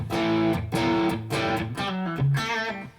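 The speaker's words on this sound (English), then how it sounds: "basically about as much distortion as the D20 has that you hear right now." Heavily distorted electric guitar through a pedal-platform amp, a D20, ringing out loud chords in a steady strummed rhythm of about five hits, sustained and crunchy with no talking.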